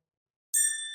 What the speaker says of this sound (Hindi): घंटी है हमारे पास, बेल